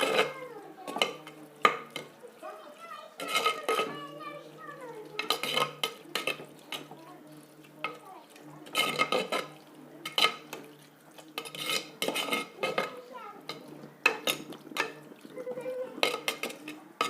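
Biryani ingredients being sautéed in a pot, with repeated rhythmic metal spoon scrapes and clanks against the pot over a low background sizzle, continuing steadily throughout; no voices.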